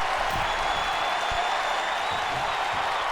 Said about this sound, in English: Crowd electric here.